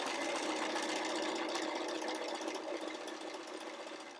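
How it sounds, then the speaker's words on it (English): A sewing machine back stitches a pillowcase seam, running in one continuous, fairly quiet mechanical whir that fades slightly toward the end. "I'm going to start stitching here, and I am going to back stitch"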